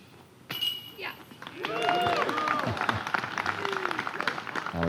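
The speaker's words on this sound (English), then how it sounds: "That was Johnny's wife, Jen, the first to cheer." Spectators at a disc golf tournament cheer and clap after a big putt, a burst of whoops and shouts followed by steady applause from a small crowd outdoors, with voices talking through it.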